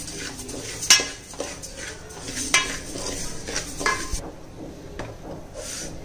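Roasted foxtail millet being moved from one cooking vessel to another, with a few sharp metal clinks of utensil against pot over soft scraping and rustling.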